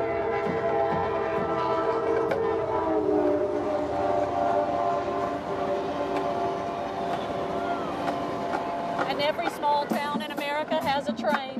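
Loud, sustained train horn blasts in layered tones from a train passing through a Christmas parade, over crowd noise and a marching band, with quick whistle-like trills near the end.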